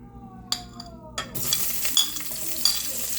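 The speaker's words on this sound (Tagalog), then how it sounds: "unahin ko na yung gisa ng sibuyas" Sliced onions hit a hot pan and begin sautéing, opening with a few metallic clinks of a utensil before a sudden loud sizzle that keeps crackling, with occasional stirring scrapes.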